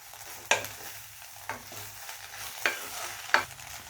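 Sliced okra with turmeric and salt being stirred in a pan, a soft sizzle underneath with four sharp scraping clinks of the spoon spaced about a second apart.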